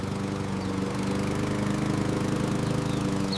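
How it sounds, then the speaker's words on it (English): Lawn mower running steadily while cutting grass, a continuous droning engine hum with a strong low buzz and stable pitch, close and constant throughout with no pauses or talking. "I mow the lawn."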